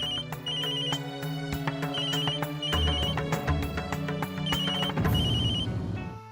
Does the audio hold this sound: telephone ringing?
yes